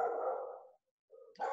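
A dog gives a sustained bark or yowl, then after a short pause a quieter whine and another loud bark, heard fairly close and alone.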